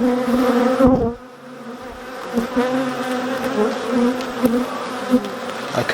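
Honey bees swarm around an open beehive during a UK hive inspection, a dense steady buzz that rises and falls as insects pass close, with a brief dip before the drone swells again.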